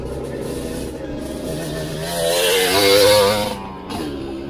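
A motocross motorcycle engine drones steadily close by, its pitch climbing into a louder rev midway before easing back, with faint voices underneath.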